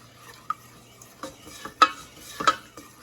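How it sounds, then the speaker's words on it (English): A spoon stirs a butter and flour roux in a pan, giving soft scraping strokes and light clinks against the pan at an uneven pace, close and fairly quiet. "And then I'm going to just continue to stir"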